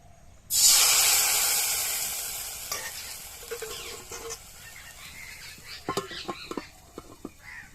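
Chitoi pitha batter poured into a hot pan bursts into a loud sizzle that slowly fades, followed by scattered small clinks and pops nearby; no talking.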